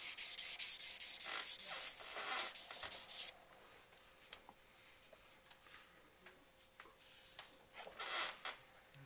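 A Takeda knife blade is ground on a sharpening stone with steady scraping strokes, loud and gritty at first, then softer, scattered rubs before a final burst of strokes.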